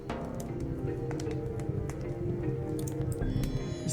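Water inside a wooden barrel once used for storing ice, from the video game Darkside Detective 2, makes soft squishing drips and taps over a low, steady background tone.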